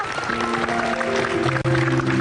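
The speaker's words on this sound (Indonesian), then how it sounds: "Luar biasa, tepuk tangan dulu" An audience at a motivational seminar gives sustained applause, a dense and fairly loud clatter of clapping with steady musical tones running underneath.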